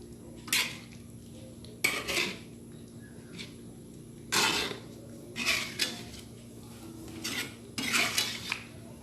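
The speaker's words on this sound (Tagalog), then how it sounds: "Haluin lang natin." A spoon scrapes and clanks against a metal pot while stirring chicken congee, in several separate bursts of clattering with short quiet gaps between them.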